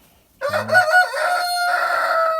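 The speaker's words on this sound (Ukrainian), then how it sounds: "Півень старенький, шкода його, але він працює добре" A rooster crows once nearby, loud and drawn out, with a brief cluck at the start.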